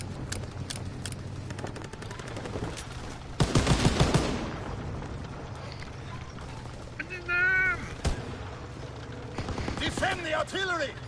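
Video game battle with rapid automatic gunfire and booming artillery, a dense burst of shots standing out loud in the middle over constant battlefield din, with game voice lines calling out orders at intervals.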